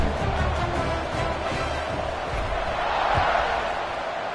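A college football stadium crowd at a WVU versus Duke game roars before the kickoff, a dense, sustained wall of cheering and noise from far across the stands that swells slightly toward the end.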